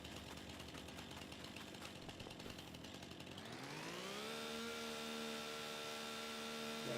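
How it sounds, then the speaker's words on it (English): A chainsaw in a back-country forestry game starts up with rough clattering, then its pitch climbs and settles into a steady, high, buzzing whine that holds to the end. "I do not like the new chainsaw sounds."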